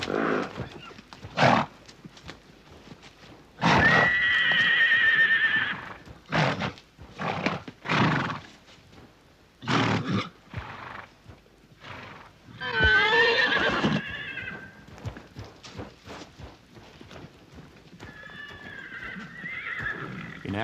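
Wild brumby horses, stallions guarding mares at an arid waterhole, give several loud close whinnies and neighs between bursts of hoof clip-clop, with quieter gaps and a fainter whinny near the end.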